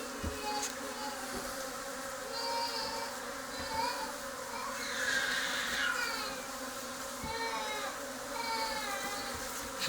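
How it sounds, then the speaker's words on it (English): A small honeybee swarm leaving a beehive in January, a dense continuous buzzing hum of many bees with individual insects swelling louder as they fly close past, steady throughout. "there is a small swarm being sent off by this beehive"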